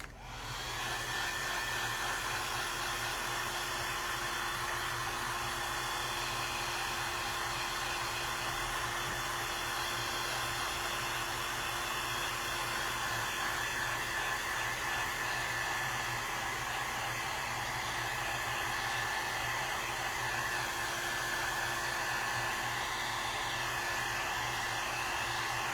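A hair dryer runs steadily on a painted wooden yard stake flag coated in acrylic paint, a loud continuous whooshing hum with a faint whine, unchanging and alone for the whole stretch.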